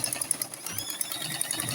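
Sewing machine stitching fabric for an Agbada Bubu garment, a steady close mechanical whirr running continuously with a light rhythmic patter, no voices.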